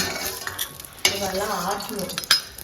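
Food sizzles in a hot pan while being stirred, with scraping spoon and pan clatter and a few sharper knocks, for a dish of spiced eggplant kothsu, close and continuous.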